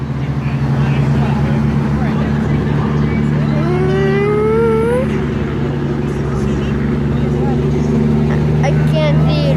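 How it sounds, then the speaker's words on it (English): Steady engine rumble from a truck rolling past at a Labor Day truck parade, loud and close throughout, with a higher engine whine rising briefly midway and people talking over it. "there's a truck right there"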